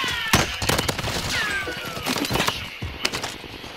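Gunfire in Call of Duty: Modern Warfare: loud, close shots and a volley of cracks, with a few sharp impacts standing out, and a crash-like hit along the way.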